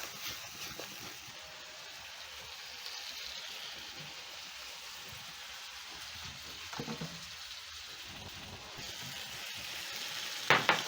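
Fish with squeezed lime juice fries in a pan, giving a steady, soft crackling sizzle throughout, broken by a few shuffling bumps from tossing and a sharp clatter near the end.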